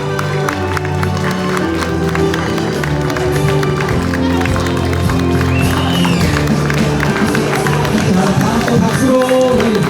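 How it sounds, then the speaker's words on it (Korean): Wedding guests at a house-style wedding hall in Incheon applaud as the bride and groom make their wedding march, a steady, dense wash of clapping mixed with crowd chatter and music throughout. "拍手で祝福してください。"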